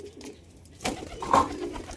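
Pigeons being fed paddy grain at their feeding spot give a soft coo or two, with a brief burst of wing or bird sound in the second half after a quiet start.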